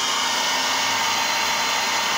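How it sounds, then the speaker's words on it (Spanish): A hair dryer blows steadily on a barbecue fire to get it lit, a loud, constant close-up whoosh of motor and air with no breaks and no voices. "Con el secador de pelo."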